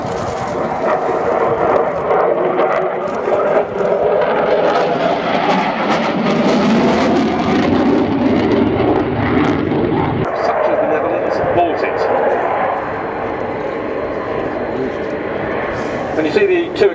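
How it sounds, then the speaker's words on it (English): Military jet aircraft flying a slow-speed display pass at the RIAT 2014 airshow, producing a loud, steady, broadband engine roar throughout while a commentator talks over it. "the high speed manoeuvring, pulling up to 8 to 9G, followed by this, which is incredibly impressive, this slow speed aircraft flying at"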